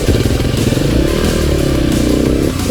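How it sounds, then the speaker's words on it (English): A Beta RR480 big-bore enduro motorcycle engine runs loud and close, a steady rough single-cylinder thump throughout with no talk. "Time to swap bikes and see what Aaron thinks of the Beta RR480."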